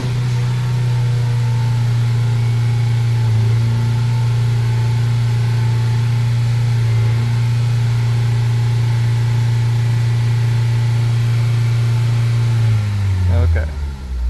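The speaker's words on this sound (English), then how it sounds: "hold the accelerator to wide open throttle with your foot on the brake" A 2017 Ford Focus engine is held at wide open throttle while power braking, a loud steady drone that holds level for long stretches before dropping off at the end, with someone talking over it.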